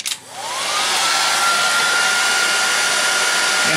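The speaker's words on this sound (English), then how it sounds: "And we take a heat gun, which looks like a big blow dryer," A heat gun shaped like a big blow dryer is switched on and blows hot air over heat shrink tubing, its motor rising quickly to a loud, steady whir with a faint high whine, close and alone.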